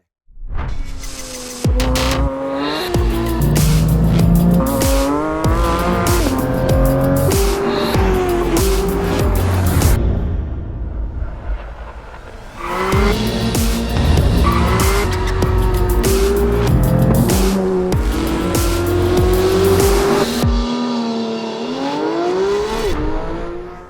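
A loud 2025 Porsche 911 GT3 with a naturally aspirated 4-liter engine revving to 9,000 RPM revs hard through rising gear changes with a pause between runs, droning and whining close by. No voices.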